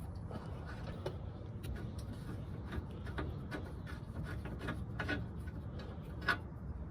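A wrench loosens the lower control arm bolt on a 2001-2005 Honda Civic, making a run of small, quick ratchet-like ticks over a low background rumble.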